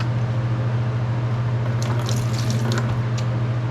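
Liquid splashes and trickles steadily over a constant low hum, as 30% vinegar is poured into a laundry load alongside borax.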